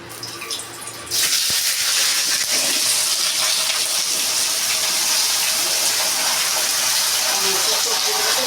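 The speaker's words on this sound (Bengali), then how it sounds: "এবারে যে কড়াতে তেল আছে এই তেলের মধ্যে আমি সমস্ত সবজিগুলোকে ছেড়ে দিচ্ছি" Mixed vegetables are dropped into hot oil in a wok while cooking a Jagannath temple offering, setting off a sudden loud, dense sizzle that holds steady and close after a brief quieter start.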